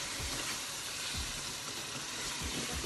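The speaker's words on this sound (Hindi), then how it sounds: "भून के उसके बाद हम इसमें ऑनियन डालेंगे।" Onion frying in hot oil with garam masala in a pan for aloo qeema, a steady dense sizzle with faint stirring scrapes, close and continuous with no talk.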